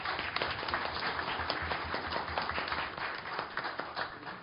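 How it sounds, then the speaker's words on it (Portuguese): Audience applause for a poet at a centenary lecture, steady dense clapping throughout, moderately close and continuous with no talk. "Palmas para o poeta Edson Moreira."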